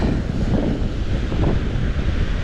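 Strong wind buffets the microphone over the rushing wash of ocean waves, a loud, steady roar with no voices.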